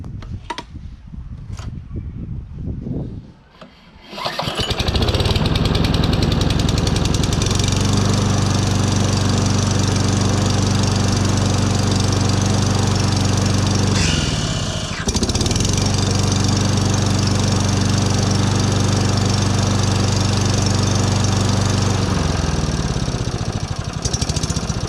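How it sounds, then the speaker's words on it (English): A small trash-picked, scrapped lawn mower engine, freshly repaired, gives a few sputtering pulls before catching, then settles into a loud, steady close-up drone with one brief dip midway. "let's see if this little lawnmower now fire up and run on its own accord"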